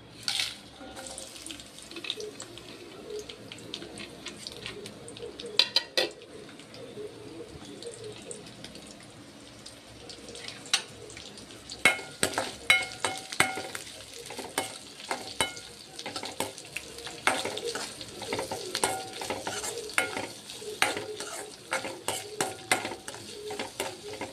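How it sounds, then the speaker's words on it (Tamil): Mustard seeds, onion, curry leaves and cinnamon fry in a pan, giving a steady crackling sizzle with sharp spattering pops and stirring clatter, fairly close and moderately loud, with no talking. "கடுகு போட்டுட்டு பாருங்கள், வெங்காயம், கருவேப்பிலை, பட்டை வத்தை எடுத்து வச்சுருக்கேன். இது எல்லாத்தையும் போட்டுருவோம்"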